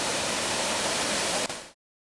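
Waterfall beside Highway 30 in Oregon roars as a steady, dense broadband rush close by, with no voices, then cuts off abruptly.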